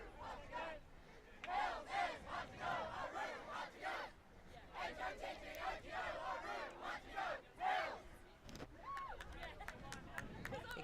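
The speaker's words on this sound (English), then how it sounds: "So we hear the Heels chant in the background" Supporters of the Hills team chant in rhythmic, shouted bursts at a 2017 match against Extinction, the crowd's voices rising and falling in waves, with a commentator talking over them.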